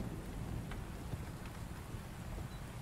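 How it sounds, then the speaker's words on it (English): Rain falling in the video game Fight or Flight, a steady hiss of downpour with a low rumble underneath, constant and moderately loud with no talk. "it sounds like it's raining"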